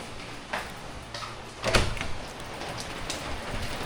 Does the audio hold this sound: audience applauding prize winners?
no